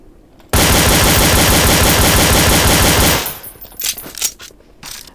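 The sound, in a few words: gunfire in the video game Counter-Strike: Source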